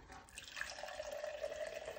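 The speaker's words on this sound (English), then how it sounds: "Next, fill it with water." A cup fills with water from a kitchen tap, a faint steady running and trickling stream with a rising tone as the cup fills, heard close with no talking.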